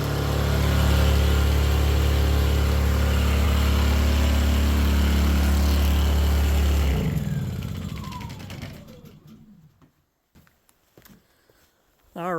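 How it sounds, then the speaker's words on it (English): A generator running loud and steady with a deep hum, then winding down after it is switched off and fading to near silence, with a brief clatter at the very end. "let's go shut down the generator"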